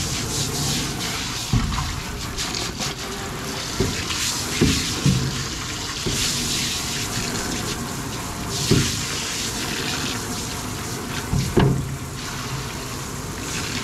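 A hose rinses out a garage parts washer at full pressure, a steady broadband hiss of spraying and splashing water with occasional louder bursts and knocks, close and continuous throughout.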